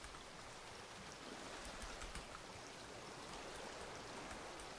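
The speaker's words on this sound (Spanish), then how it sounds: "¿Es porque está lloviendo?" Steady rain falling in the Raft survival game, a dense even hiss of drops with no letup, moderately quiet and with no voices over it.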